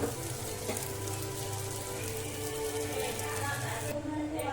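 Chicken frying in two or three spoons of oil in a non-stick pan, a steady close sizzle and crackle like light rain that runs continuously with little change.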